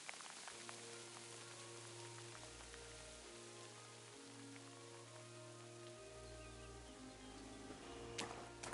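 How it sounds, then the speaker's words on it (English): Heavy rain pours steadily in the medieval game Kingdom Come: Deliverance II, a dense continuous hiss of drops on surfaces, with low sustained musical drones underneath and a brief louder spatter near the end. "Pissing down rain again."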